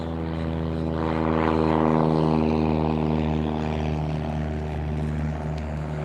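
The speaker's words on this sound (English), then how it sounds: "There goes the airplane up right now." A propeller airplane's engine drones loudly and steadily, a strong humming roar that swells slightly as it takes off and then holds.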